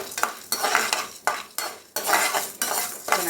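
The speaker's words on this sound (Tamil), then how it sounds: "இப்போ வெள்ளை உளுத்தம்பருப்பு நல்லா கோல்டன் கலர் வர வரைக்கும் வறுத்துக்கோங்க" White urad dal dry-roasting in a kadai, stirred with a metal spoon in a few scraping, clattering strokes about half a second apart, close and fairly loud, with no talking.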